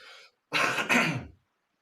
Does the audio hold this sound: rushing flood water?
no